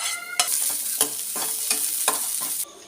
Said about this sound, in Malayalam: ഇനി അതിലേക്ക് നമ്മൾ നേരത്തെ തയ്യാറാക്കി വെച്ചിരുന്ന ഇഞ്ചി കറിവേപ്പില തേങ്ങാപ്പീര ഇവ കൂടെ ചേർത്ത് ഒന്നിളക്കാം